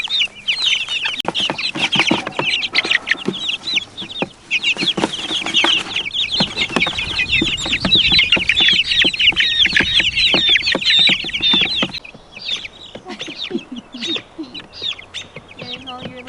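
Jersey Giant chickens cluck and cheep close by in a busy, continuous chatter of chirps and clucks, dropping to sparser calls near the end.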